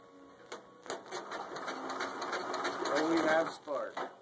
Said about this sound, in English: I'm going to go ahead and crank the engine over from the other side, see if I got any spark coming out